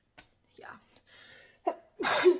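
A person sneezes once, a sharp close burst after a quick intake of breath, amid brief casual speech and soft breathing indoors.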